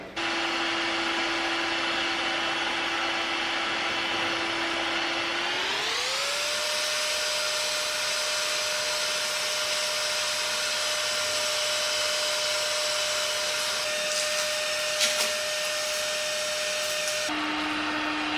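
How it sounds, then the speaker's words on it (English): A heat gun warms the stickers on a McConnel PA93 hedge trimmer, blowing with a steady close whir whose pitch steps up partway through and then holds, briefly dropping back at the end. "I'm going to use the heat gun now, and I'm going to heat the stickers slightly"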